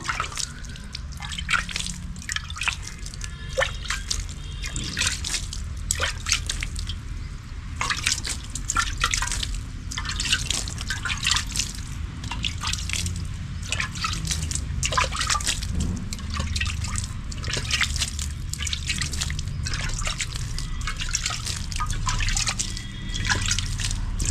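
Water left from soaking chickpeas is sprinkled by hand over potted chrysanthemum plants. Light drips and splashes patter steadily and close by throughout, with no talking.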